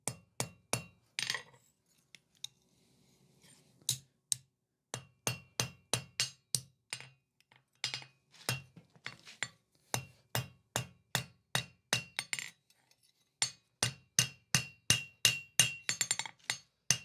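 A ball peen hammer rivets forged steel scrolling tongs on an anvil, ringing in steady, sharp strikes, dozens of them in quick bursts with short pauses between runs, close and loud with no talk.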